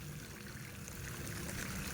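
Water pours steadily from a resort pool feature, a soft continuous splashing and trickling stream heard faintly on its own.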